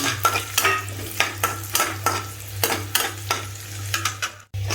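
Semolina is roasted in a pan while a spoon stirs it in quick rhythmic scrapes over a faint sizzle and a steady low hum. The stirring is close and there are no voices.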